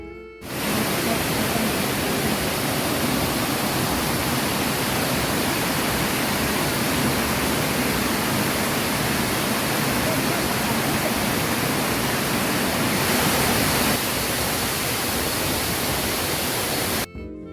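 Kuang Si waterfall in Luang Prabang, Laos, gives off a loud, steady roar of rushing water that holds unbroken from start to finish with no voices.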